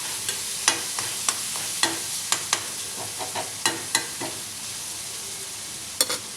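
Garlic sautés in a pan under a soft continuous sizzle. Crisp, close spatula scrapes and taps recur in a loose rhythm, with no talk.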